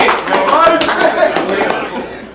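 Crowd applause and cheering after a rap battle at a cookout event, a dense wash of clapping with scattered laughter and chatter running throughout, fairly loud and close.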